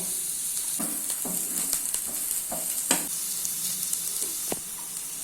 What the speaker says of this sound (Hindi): अभी इसको मीडियम फ्लेम पे लाइट ब्राउन होने तक फ्राई कर लेना है। इसको इस तरह से बीच बीच में स्टर करते रहना है